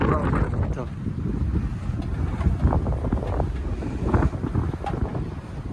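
Strong wind buffets the microphone while biking through brown dry-season farm fields in Japan, a loud, continuous roar with gusty swells and no clear speech.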